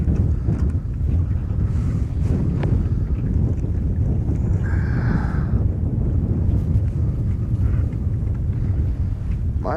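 Strong wind roars steadily across a fishing boat on the water, a loud, constant buffeting rush close to the microphone that persists throughout without letup.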